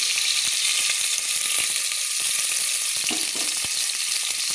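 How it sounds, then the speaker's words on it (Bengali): Cut potato chunks with salt and turmeric fry in hot oil inside a pressure cooker for a quick chicken curry, giving a loud, constant sizzle with occasional scraping stirs and crackles, and no talk. "আলুগুলোকে প্রেসার কুকারে আলুগুলোকে একটু ভেজে নিলাম।"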